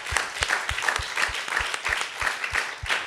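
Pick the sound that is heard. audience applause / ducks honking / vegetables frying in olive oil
audience applause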